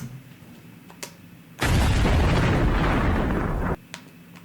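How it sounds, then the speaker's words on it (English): A loud explosion sound effect cuts in abruptly and roars as sustained broadband blast noise for about two seconds, then stops sharply, with quiet room tone before and after. "Can we get an explosion?"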